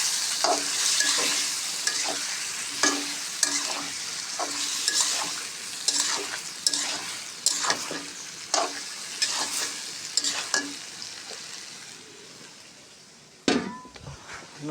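New potatoes fry in a curry pan with a bright, steady sizzle, while a utensil taps and scrapes the pan in regular strokes. A louder clank comes near the end as the sizzle fades. No one speaks.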